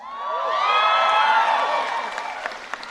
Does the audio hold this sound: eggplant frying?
no